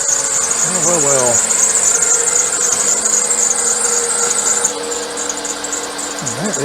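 A continuous high-pitched squeal whines steadily over the running 2.4L Dual VVT engine of a Dodge Avenger, with a few rising and falling tonal sweeps; loud and close, no one speaking.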